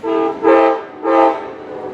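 An Amtrak Maple Leaf passenger train sounds its horn in two loud, close, sustained chord blasts, the second swelling slightly before the sound tails off.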